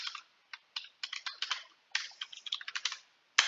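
Quick bursts of typing on a computer keyboard, clicky keystrokes in short irregular runs with brief pauses, close and otherwise quiet.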